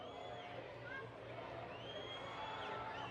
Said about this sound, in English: Crowd's getting excited.